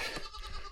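A goat bleats at close range in the morning on a farm, one short, strained cry heard alone.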